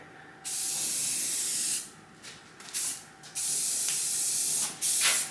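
Aerosol spray paint hisses in several bursts of dark gray onto a vintage Shopmaster jointer, loud and close, with short gaps between passes.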